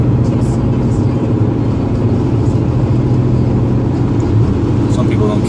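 Cars moving along the Autobahn, a SEAT Leon Cupra among them, give a steady, loud engine and road roar that holds throughout while people talk over it.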